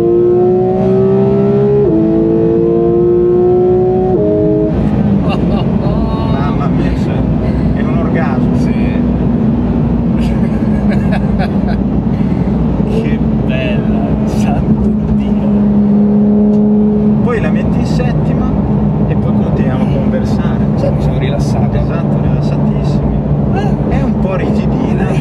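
Porsche GT3 RS fitted with a new exhaust, accelerating hard with a loud, continuous engine roar and rising revs, heard close with no pauses.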